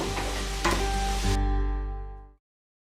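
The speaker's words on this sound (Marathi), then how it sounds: "कांदा थोडा लालसर करणार आहोत।" Onion frying in a pan after garlic has browned, a soft steady sizzle with a couple of stirring scrapes, fading away to silence near the end.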